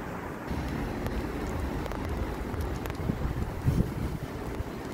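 Strong wind buffeting the microphone, a constant loud roar with gusty peaks and no voices.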